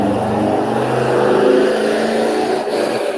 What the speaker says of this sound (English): Wow, that was a noisy motorcycle.